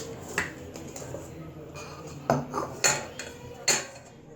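Steamed dhokla is lifted out of its metal pan, giving several sharp metallic clinks and scrapes of utensil on metal at irregular intervals, close and fairly loud.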